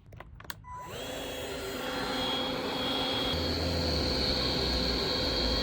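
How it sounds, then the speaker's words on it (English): A heat gun blows steadily on solder-sleeve wire connectors for garden lights, a constant airy roar with a faint whine that starts after a couple of clicks and grows slightly louder as it runs. "they say just apply a heat gun and it should all solder up."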